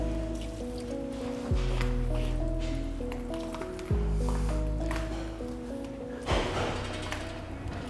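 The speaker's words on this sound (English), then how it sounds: "just glide the sponge across the surface" A wet sponge glides over a car's paint during a rinseless wash, giving soft squishy wipes and drips, with three heavier swipes at regular intervals over a steady background hum.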